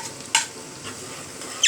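Chopped onion, black peppercorns and ginger-garlic paste hiss in hot oil for dhaba-style chana dal, with a soft sizzle broken by two short bright bursts of stirring, close up and without talk.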